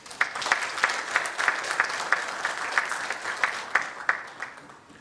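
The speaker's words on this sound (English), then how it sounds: "that deserves a tremendous round of applause." An audience claps together in a steady round of applause, with sharper accented claps and a faint cheer, fading slightly near the end.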